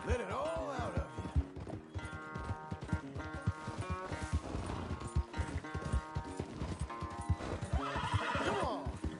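A horse neighs and whinnies loudly several times over quick clip-clopping hooves and thumps in the video game Red Dead Redemption 2, close and agitated throughout.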